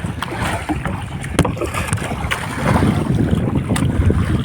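Wind rushing past a small sailboat on open water, gusty buffeting on the microphone with sharp knocks and splashes, growing louder toward the end.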